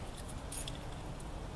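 Keys on a ring jangle faintly, among them the black-ended door key of a pop-up camper, a few quick light metallic clinks outdoors over a steady low background rumble.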